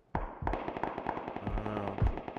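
Gunshots in the video game PUBG, a string of sharp cracking reports at an uneven rhythm, fairly close, with one heavier thump near the end.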